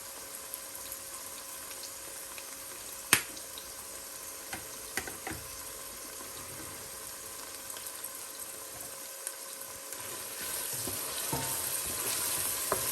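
Beef skin sautéed with onions and seasoned with paprika and pepper is stirred in a pan, giving a steady low sizzle with scattered scrapes and a sharp clack near the start, and no voices.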